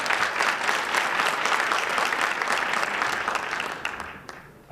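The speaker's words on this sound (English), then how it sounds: "I think they all deserve a round of applause." An audience at a Black History celebration breaks into steady, even applause, a dense wash of many hands clapping together that holds and then tapers off at the end.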